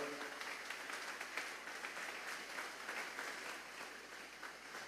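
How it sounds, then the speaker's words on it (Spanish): A church congregation applauds as an offering of praise during a Thursday doctrine service, a steady, fairly quiet wash of many hands clapping throughout with faint voices mixed in. "Vamos a darle una ofrenda de palmas a Dios en esta hora."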